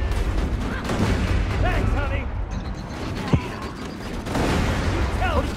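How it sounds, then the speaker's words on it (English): Grenade blasts and gunfire rumble through a Borderlands 2 firefight as a dense, continuous barrage with one sharp crack standing out. Excited voices talk over the combat noise. "let me throw a grenade"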